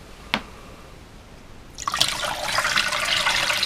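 Water pours steadily from a green tub into an aquarium net as bloodworm and joker fishing bait are tipped out, after a single sharp splash, a continuous close rushing and trickling.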